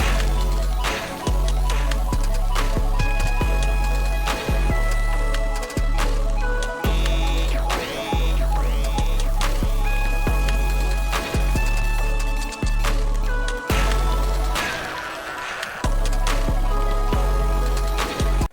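A Portal 2 song remix, heavily distorted and OTT-compressed, pumps with a thumping beat, buzzy synth leads and quick rising sweeps, loud and dense throughout with one short drop near the end.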